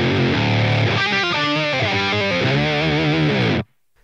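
A high-gain electric guitar runs through the Revv Gen Purple amp model on a Line 6 HX Stomp with an octave effect, playing a loud, distorted rhythm phrase that sustains and then cuts off abruptly into silence.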